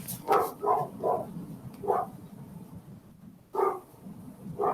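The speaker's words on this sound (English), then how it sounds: "it's a dog from like outside of my window" A dog outside a window barks in short bursts, moderately distant, with a quick cluster of three barks, then single barks spaced apart over a low background hum.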